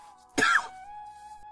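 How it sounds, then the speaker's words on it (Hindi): A single short cough rings out, close and abrupt, followed by a quiet steady tone in the background. "तभी बाहर से किसी के खांसने की आवाज आई।"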